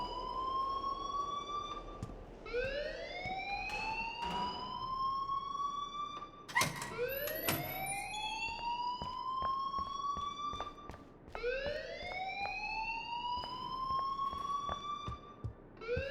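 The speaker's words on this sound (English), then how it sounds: "please turn off that alarm since that's your job" A school alarm ringing in the Life Is Strange video game, a loud rising and falling siren-like wail that repeats in long sweeping cycles, with faint knocks and clatter underneath.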